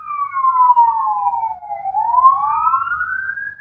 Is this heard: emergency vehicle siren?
yes